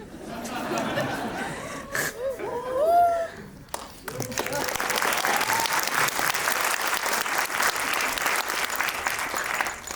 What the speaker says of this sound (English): 돈은 안 받았더니 박수가 들리네요.